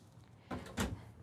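A drawer sliding open in a Renegade Explorer 38EMB motorhome, two quick close scraping rumbles in a quiet interior.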